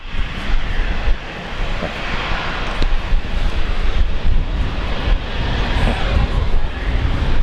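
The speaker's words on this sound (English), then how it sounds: "So we've got an E190 and a little Fokker 70 taxiing by." Two regional jets, an Embraer E190 and a smaller Fokker 70, taxi past at Brisbane Airport, giving a steady broadband jet-engine roar with wind buffeting the microphone throughout, no voices.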